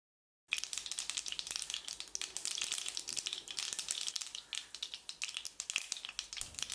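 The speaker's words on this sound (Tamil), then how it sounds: "கடுகு பொரிஞ்சிருச்சு." Dense crackling and spitting of mustard seeds popping in hot oil, continuous and close, with rapid irregular pops throughout.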